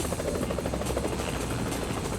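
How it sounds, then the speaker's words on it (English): A police helicopter flies overhead above a city street, its rotor giving a steady, dense thudding drone that stays constant throughout, loud and unbroken with no talk. "See our helicopter up there?"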